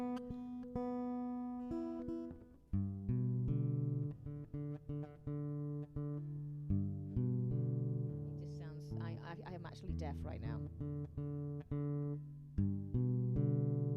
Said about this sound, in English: Sometimes I just don't trust the onboard tuner on my guitar.